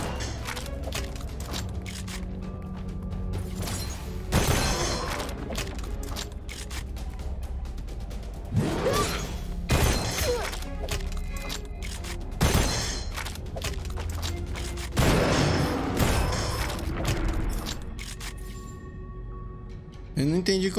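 Gunfire in the cartoonish shooter video game Gunfire Reborn: repeated loud bursts and single shots crack out across the clip while someone talks over them.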